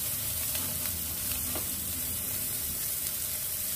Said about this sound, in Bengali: আর কিছু মশলা দিয়ে সয়াবিনটা ভালো করে ফ্রাই করে নেব।